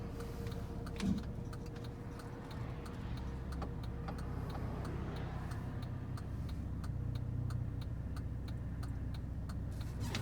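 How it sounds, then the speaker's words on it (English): A 2004 GMC Envoy SLT 4WD in green pulls away and drives down the road, with a steady low engine and road rumble heard from inside the cabin and faint regular ticking over it throughout. "Put it into gear, and we will head down the road here."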